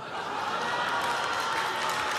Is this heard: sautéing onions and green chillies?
no